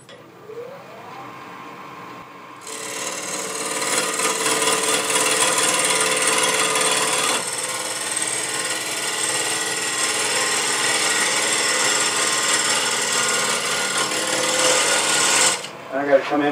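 A woodturning lathe rounds a wooden disc for a flower vase, giving a loud, continuous rasping scrape as the tool cuts the spinning wood. It begins after a brief quieter start and stops abruptly near the end.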